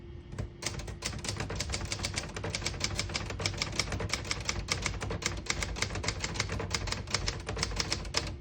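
Rapid, steady clacking of the keys of a 1972 Hermes 3000 manual portable typewriter, dozens of crisp strikes in a brisk rhythm, close and loud with no voices.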